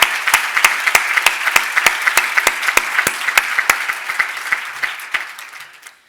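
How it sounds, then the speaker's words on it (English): Audience applause at a lacrosse Hall of Fame induction ceremony, loud, close clapping with sharp individual claps standing out, steady for several seconds before tapering off. "Let's then give them a round of applause for everything they've done for us."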